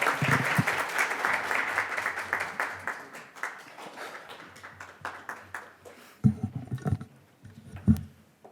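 Audience at a Korean policy forum on digital therapeutics applauds to welcome a lawmaker, a dense, steady wash of clapping that tapers off, followed by a few louder scattered claps and small noises near the end.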